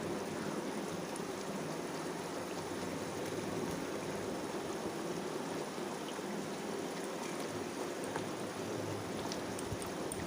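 Dhoka pieces simmering in boiling curry gravy, a steady bubbling, watery seething that runs evenly and quietly throughout with no talk.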